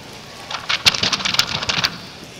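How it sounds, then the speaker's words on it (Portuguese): Rain sound effect playing under a sermon, a hiss of falling rain with scattered sharper patters and drops building in bursts, moderately loud and close, no voice over it. "A chuva foi ficando mais e mais forte."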